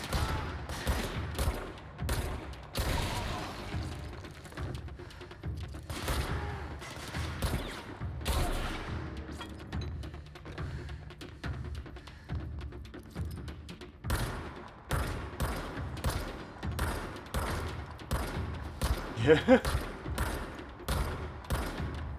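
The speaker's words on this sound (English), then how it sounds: "I missed every single one of those shots" Video-game gunfire from Control crackles in rapid, uneven bursts for over twenty seconds. The sharp, close reports come in dense clusters with short pauses between volleys.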